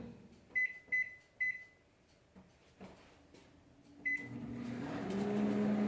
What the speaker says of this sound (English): I'm going to put some water in the microwave in a mug